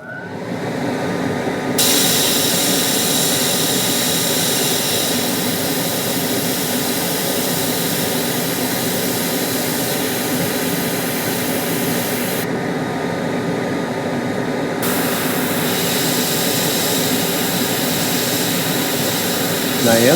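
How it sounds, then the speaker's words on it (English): Paint is sprayed from an airbrush onto a crappie fish painting, a loud continuous hissing rush lasting the whole time, briefly thinning once. "I'm not spraying it everywhere."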